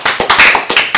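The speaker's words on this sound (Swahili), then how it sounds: "Jamani, pigeni makofi." Nearby clapping by a congregation during a sermon, a quick run of sharp, loud hand claps in an uneven rhythm, about six or seven strikes within a second.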